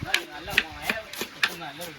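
Onions being chopped for dum biryani, a steady series of about six crisp knife taps on a board, close and fairly light.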